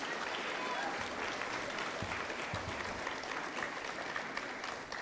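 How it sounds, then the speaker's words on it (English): Applause at an 8th grade promotion ceremony for academic award winners, a broad continuous clapping crowd heard from a little distance, with faint murmurs and a few low thumps underneath. "Another round of applause for our Academic Excellence Award winners."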